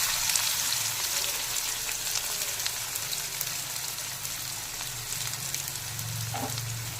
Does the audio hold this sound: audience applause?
no